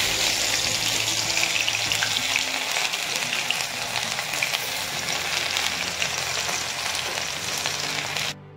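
Ginger-garlic paste frying in hot oil in a wok for soya gobi chilli, a steady loud sizzle that runs unbroken and close before cutting off abruptly at the end.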